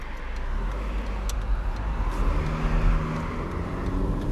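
An Audi A3 Sportback 8L pulls away from inside the cabin, a steady low engine drone and road rumble that swells gently as the car gets moving, with no one speaking.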